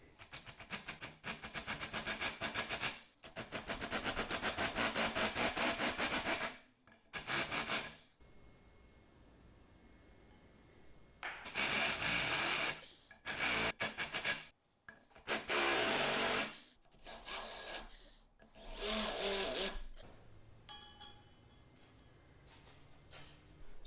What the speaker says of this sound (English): So I'm going to use a countersink and I'm going to use a big 3/4-inch drill bit.